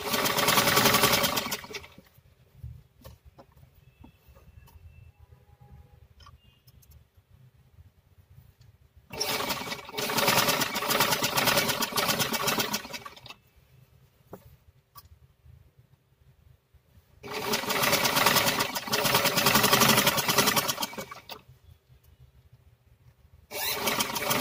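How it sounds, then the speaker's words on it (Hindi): A sewing machine stitches the round bottom hem of a kameez in four separate bursts of steady, close whirring, each lasting a few seconds, with quiet pauses between them. "ऐसे करके अब मैं दोबारा से स्टिच कर लूंगी।"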